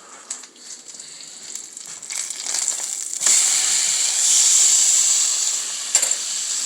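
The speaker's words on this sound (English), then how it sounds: "I have to flip over this steak" A ribeye steak hisses in a hot pan, a soft sizzle that swells into a louder, steadier roar of frying after it is flipped, with a few faint clicks close by.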